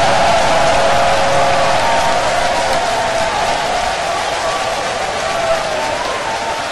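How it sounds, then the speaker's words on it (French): Thunderous applause from a large audience after a political speech announcing withdrawal from a presidential race, a loud, dense and continuous wash of clapping and cheering throughout. "suivie d'un tonnerre d'applaudissements"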